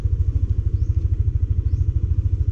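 A motorcycle idles close by at a beach campsite resthouse in Lobo, Batangas, its engine thumping in a fast, steady pulse with light mechanical clatter and no talking over it.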